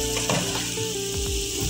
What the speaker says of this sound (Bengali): পানিটা ফুটছে,